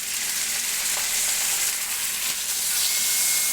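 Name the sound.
beef searing in a smoking hot pan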